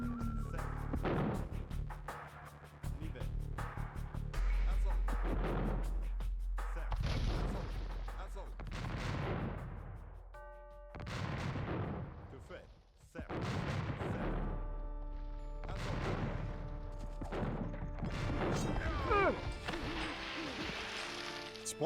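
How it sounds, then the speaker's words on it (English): Hand cannons fire in the Age of Empires II: The Age of Kings strategy game, a series of heavy booming gunpowder blasts over layered battle sounds and music, repeating irregularly throughout. "Hey, we got some hand cannons."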